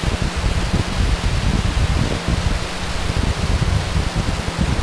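Dense, continuous roar and crackle from a SpaceX Falcon 9 rocket lifting off on a Starlink launch, loud and rumbling with rapid low-end fluctuations throughout, no voices.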